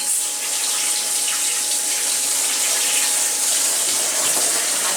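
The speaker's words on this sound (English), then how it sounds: "adding this washdown hose also allows me to do some washdown" A pump-fed washdown hose on a flood-coolant machine setup sprays water in a steady, loud, close hiss that runs unbroken with no talk.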